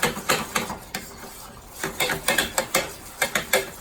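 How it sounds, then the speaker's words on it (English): A spoon stirs flour dough in a cast iron pan over low heat, giving repeated sharp scraping clacks in an uneven rhythm, loud and close with no speech. "I'm going to put this back on low heat and stir for about a minute"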